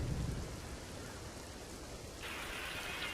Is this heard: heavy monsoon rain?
yes